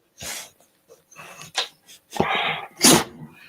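Several sharp sneezes burst out one after another with short pauses between, loud and close, with no talking.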